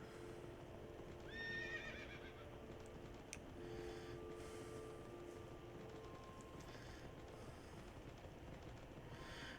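A horse whinnies briefly in Minecraft, then hooves clop steadily along over a faint ambient hum, quiet and game-like.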